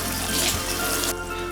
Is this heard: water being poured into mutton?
yes